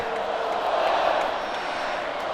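A packed home stadium crowd at an NC State college football game on senior day roars in a loud, sustained wash of cheering.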